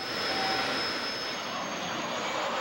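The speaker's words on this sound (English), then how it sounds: "Coming in close to final, the airplane floats very nicely, can be flared, and touches down very softly." An F-22 Raptor jet on its maiden flight roars steadily during landing and touchdown, a broad sustained engine rush with a faint high whine and no voices.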